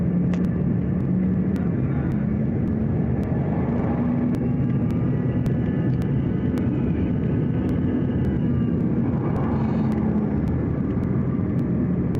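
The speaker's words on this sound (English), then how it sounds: "This plane was trying to land in bad conditions" An airplane attempts to land in bad conditions beside the runway, heard from inside the cabin as a loud, steady engine rumble and roar that holds throughout with slight shifts in pitch.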